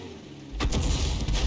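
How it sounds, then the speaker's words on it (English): An artillery shell striking a tank in a World of Tanks–style battle with the Lorraine 155 mle. 50 self-propelled gun: a sudden loud blast after a quiet half second, followed by a rumbling, crackling impact with a second burst near the end. "looks like one of our tanks took a hit there from Arty as well"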